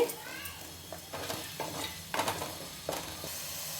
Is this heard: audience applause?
no